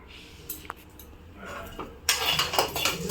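Black pepper and cumin are dry roasted in a pan while making milagu kulambu, heard as a scraping stir and clinks of a utensil against the pan that grow louder and busier toward the end.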